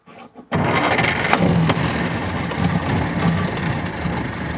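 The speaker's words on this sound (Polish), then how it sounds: "Odpalił. Brzmi kompletnie inaczej niż współczesne silniki." A vintage Polski Fiat 508 engine catches after a brief cranking start and settles into a loud, steady, rough idle that fills the rest of the clip, heard close up.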